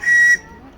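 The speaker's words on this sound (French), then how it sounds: "Petit coup de sifflet pour me montrer quand même qu'il est vivant." A single short, bright toot from the steam whistle of the live-steam RC tug Resolve, clear and fairly close, cutting off quickly into quiet water ambience.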